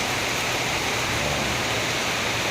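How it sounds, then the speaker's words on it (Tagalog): Heavy rain pours down steadily in a dense, continuous hiss, loud and close, with slight flooding nearby and no voices. "ang lakas ng ulan"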